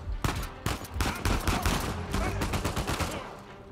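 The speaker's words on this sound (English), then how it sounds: "Who's shooting at me?" Enemy gunfire in Uncharted 4: A Thief's End, a dense, continuous barrage of loud shots and automatic bursts that runs throughout without pause.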